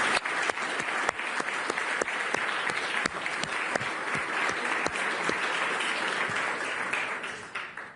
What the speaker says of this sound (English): I would like to ask you, yet again, to applause